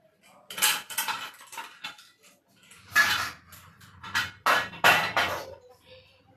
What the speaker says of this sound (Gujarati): આ વાસણનું કામ તો એવું છે ને કે ખખડે ને એટલે તરત જ ઉઠી જાય